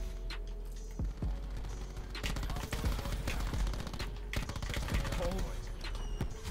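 Gunfire in a competitive video game shooter, with bursts of rapid automatic shots and scattered single cracks, loud and dense from the middle onward, while players talk over it.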